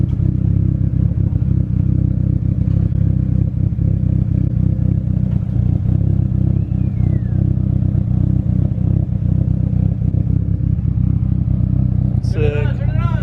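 A Mitsubishi Evo X race car engine with a misfire runs loud and close as a steady, rough, dense roar, and voices come through near the end.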